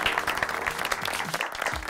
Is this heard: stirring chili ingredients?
no